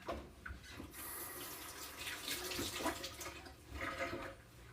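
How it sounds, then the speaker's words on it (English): Water running from a tap and poured into an emptied tomato sauce jar to rinse it while making spaghetti and meatballs, a steady close splashing stream of several seconds with no talk over it. "I'm going to add just a touch of water to loosen it up a little bit and to rinse out that jar"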